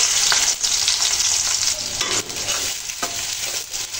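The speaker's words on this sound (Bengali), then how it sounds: "পেঁয়াজগুলো হালকা বাদামি কালার করে ভেজে নেব।" Chopped onions fry in a pan with oil after potatoes and vegetables, a loud, close, continuous sizzle with occasional scraping from stirring.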